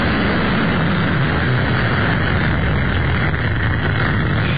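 A loud, steady roar of a low-flying airplane dominates throughout, a continuous broadband engine rumble with no pauses, heavy in the low end.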